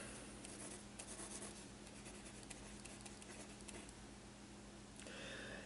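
Marker or chalk drawing a diagram on a classroom board, steady scratchy strokes and taps running throughout under a low room hum, fairly quiet and close.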